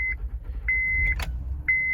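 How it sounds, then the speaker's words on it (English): A car engine idles on a cold morning start, a low steady rumble beneath repeated high electronic beeps and a short sharp click. "So what you do, you just run your car"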